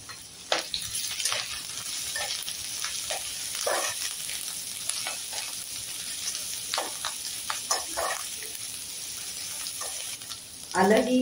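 Ginger frying in hot oil over a full gas flame gives a steady sizzle, with irregular louder spits and stirring scrapes, and a brief clatter near the end.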